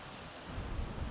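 Steady wind at a beach rushes and buffets against the microphone, rising a little louder toward the end, with no voices.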